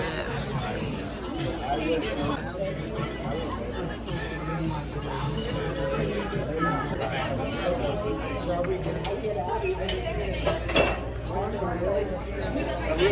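Glasses clink together in a toast over a French 75 cocktail at a busy restaurant, the bright chinks brief and partly buried under constant crowd chatter and nearby voices.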